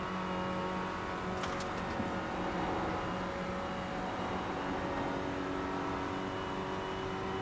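A race car engine held at full throttle on track, a steady, loud, continuous roar with a constant pitch that runs unbroken for the whole stretch.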